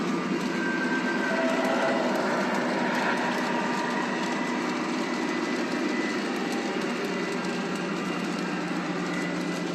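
A model diesel locomotive runs steadily on a layout, giving off a constant whirring motor hum and faint track rattle at an even, close level, with no talking.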